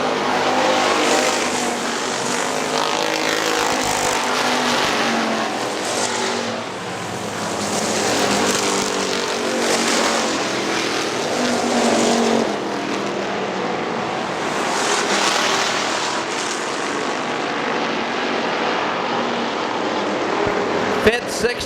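Factory stock race cars roar around Hartford Speedway Park in a 2002 race, a dense, continuous engine drone with passing swells, while an announcer talks over the noise throughout.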